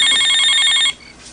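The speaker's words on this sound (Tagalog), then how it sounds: "Uy, may nagpaparawag sa cellphone." A cellphone ringing with an incoming call, a bright electronic trilling ring that stops abruptly after about a second, leaving quiet.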